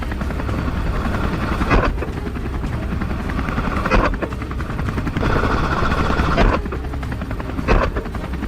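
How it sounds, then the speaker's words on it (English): A helicopter flies over vast open farm fields in Georgia while hunting wild boar. Its rotor thump is loud and continuous, with periodic swells as it passes, and no voices are heard. "Our helicopter flies toward yet another vast field."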